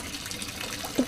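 Water splashes as a cartoon eagle tumbles into a river, a soft running-water wash with a brief louder splash near the end.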